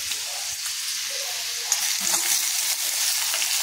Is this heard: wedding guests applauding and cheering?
no